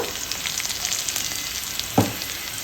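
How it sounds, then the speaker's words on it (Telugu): Onions frying with a little turmeric in a pan, a loud steady close sizzle with a short scrape of stirring near the end. "ఆనియన్స్ ఇట్లా కొంచెం ఫ్రై అయినాక"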